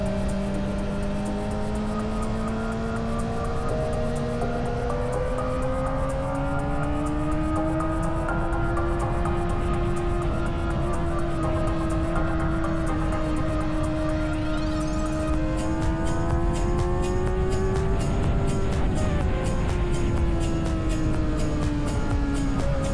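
A Kawasaki ZX-4RR four-cylinder motorcycle engine hums loud and close from the rider's seat on a quiet mountain road, its pitch swelling and easing as the throttle rises and falls, with wind rushing underneath.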